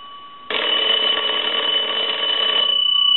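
A wooden telephone bell box rings loudly and continuously at close range, a harsh metallic trill lasting a few seconds after a quiet start.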